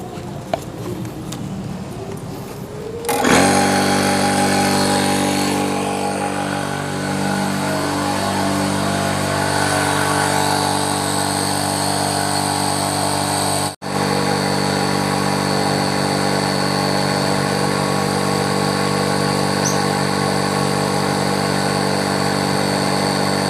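An electric air pump inflating a Naturehike Air 13.2 inflatable tent starts abruptly after a few quiet seconds, then runs as a loud, steady motor drone with a constant whine, briefly cutting out once before continuing.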